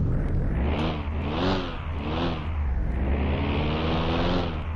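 Four-cylinder saloon car engine in Car Mechanic Simulator 2021, idling with a low rumbling drone and a few rising and falling revs in a steady loop, with no voices.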